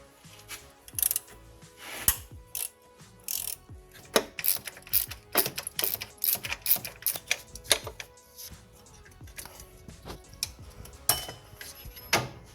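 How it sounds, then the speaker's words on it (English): Ratchet wrench loosening the timing belt tensioner pulley on a 1998 Nissan Pathfinder V6, a run of close, loud metallic clicking bursts with clanks of tools, no talking. "So we're going to loosen that pulley, and then we'll back that, pull that one back."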